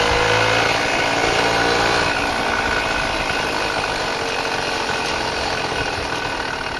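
The small engine of a little motor vehicle runs steadily during an alley ride, a continuous rough, close drone with wind noise and no speech.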